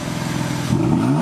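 A BMW F8X M3/M4 engine fitted with catless downpipes revs hard, its raspy, pulsing growl swelling sharply partway through and holding loud and close.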